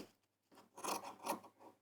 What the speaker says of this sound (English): I'm going to use scissors and actually cut around this one so I know it's exactly the same size.